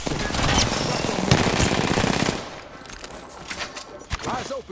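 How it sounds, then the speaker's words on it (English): Rapid automatic gunfire in Apex Legends, dense and loud bursts of shots for a couple of seconds, then sparser, quieter pops and a few scattered shots trailing off. "I'm getting shot at"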